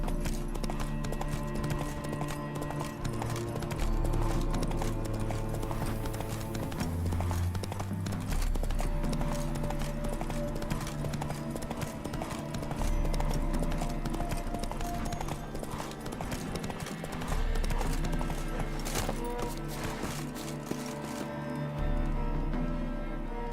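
Roach the horse gallops in The Witcher 3 with steady clip-clop hoofbeats under a loud, continuous orchestral game score, with a brief whinny near the middle.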